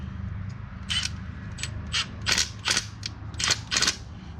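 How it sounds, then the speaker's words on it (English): A ratchet torques a bolt during an oil change on a 2022 Ford Maverick EcoBoost, giving a series of sharp, close clicking bursts in an irregular rhythm over a low background hum. "now I'm gonna torque a little bit my bolt"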